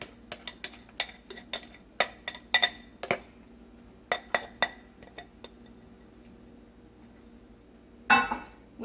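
Chopped onion and garlic dumped into a Fissler Souspreme multi pot, a run of light clinks and clatters from a utensil against the pot, then a short rustling scrape near the end.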